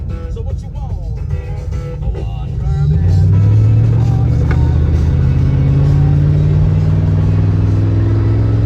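A Toyota 4.7 V8 with a cut exhaust revs up loud and raw, then drones and burbles hard through a downshift, dominating the scene at close range.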